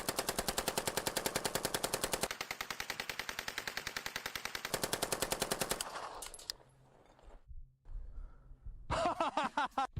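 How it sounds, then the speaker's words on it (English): Close, loud bursts of full-auto fire from a WW2-era submachine gun held in one hand, with rapid evenly spaced shots in long strings, then a pause with scattered handling noise before one more short burst. "you can fire it one-handed"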